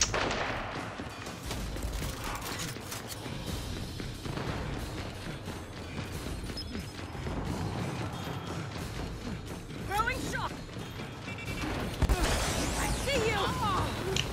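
Gunfire crackles through a multiplayer Gears of War match, repeated shots and mechanical clatter mixing with booms under steady player chatter, moderately loud throughout.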